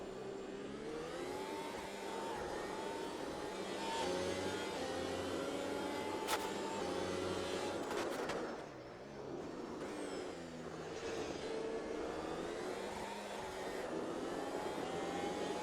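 A high-revving Formula Ultimate Gen 2 racing engine in Automobilista 2 whines continuously, its pitch sweeping up and down through gear changes, with a brief dip and some clunks midway.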